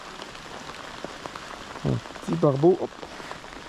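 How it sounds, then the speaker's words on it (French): Rain pattering steadily on a surface outdoors while river fishing for barbel, a soft constant patter under a man's brief French speech. "C'est pas la pluie qui va m'arrêter."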